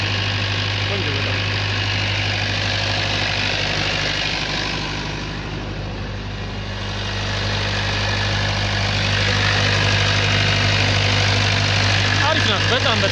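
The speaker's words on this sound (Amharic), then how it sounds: "ዊቻይ ሞተር ናት። ባለ 4 ሲሊንደር" A rebuilt Weichai WP2 four-cylinder diesel generator engine idles close by with a loud, steady, even drone that runs the whole time, easing slightly in the middle before returning to full strength.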